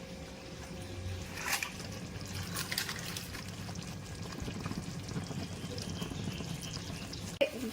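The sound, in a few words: chicken being fried with spice paste in a pan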